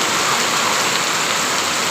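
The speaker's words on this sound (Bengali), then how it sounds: "প্রচণ্ড বৃষ্টি" Heavy monsoon rain falls in a loud, unbroken hiss, a dense steady downpour close by with no other sounds.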